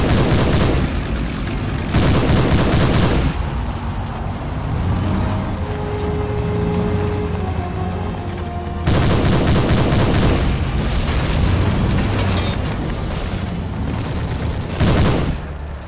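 Gunfire in the tactical shooter Hidden & Dangerous II at a North African airport: loud, sustained automatic bursts in two long volleys, separated by a quieter stretch with engine-like drone and distant shots.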